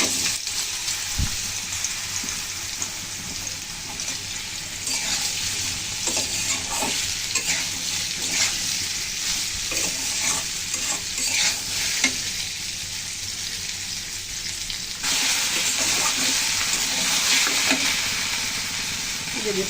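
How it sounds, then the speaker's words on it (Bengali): Bitter gourd and potato pieces fry in oil in a wok, a dense continuous sizzle with crackling spatter and occasional stirring clinks, swelling louder near the end, with no talking. "আর এদিকে কড়াইতে যে তেল দিয়েছি আমি আগে উচ্ছে আলুগুলো ভেজে নেব।"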